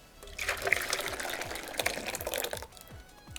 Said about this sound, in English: pour the gelato mixture into a container that I'm going to refrigerate